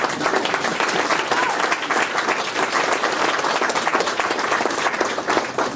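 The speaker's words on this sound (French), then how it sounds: "vous pouvez applaudir" Steady, dense applause from a large crowd, continuous and loud throughout with no talking over it.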